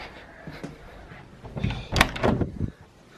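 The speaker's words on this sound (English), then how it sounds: "I'm gonna open up the door." A household door being opened, with faint handling taps early, then a cluster of louder knocks, clicks and a short rattle as it swings open, close by and with no talking.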